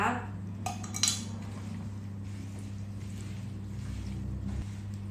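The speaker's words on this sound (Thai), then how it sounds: "แล้วก็คนให้เข้ากันนะคะ" A herbal scrub mixture with pomegranate oil is stirred in a bowl, with a few sharp spoon clinks near the start and then a low, steady churning hum.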